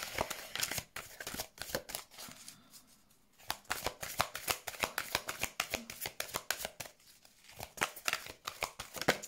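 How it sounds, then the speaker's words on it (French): Tarot cards being shuffled and drawn by hand, a close, steady run of rapid papery riffles and flicks that pause briefly before resuming, with no talking. "je vais retirer une deuxième carte"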